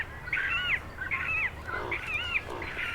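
Repeated harsh, nasal cormorant calls in short bursts from a nesting colony along the Aare River, Switzerland, overlapping at moderate distance over a low background hum.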